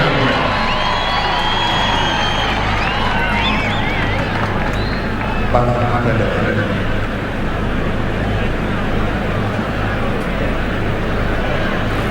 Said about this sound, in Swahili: Tumkaribishe kwa shangwe.